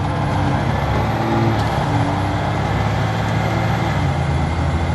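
A heavily armored M1083A1P2 LTAS 6x6 army truck with a C7 diesel accelerates at full throttle from a dead stop, a loud, steady low engine roar that holds throughout with no talk.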